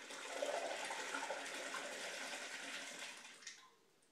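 Water gushes quickly out of a swirled plastic bottle, a steady rushing pour that runs strong for about three and a half seconds before tapering off abruptly, close by with no talking.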